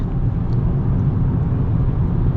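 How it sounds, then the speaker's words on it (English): Steady broadband rumble from a Ford Maverick Lariat 2.0 turbo small pickup cruising on the highway, the tyre and road roar filling the cabin evenly throughout, with no talking. "this has more road noise than the F-150"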